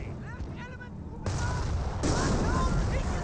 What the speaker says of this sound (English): More mortar hits right there.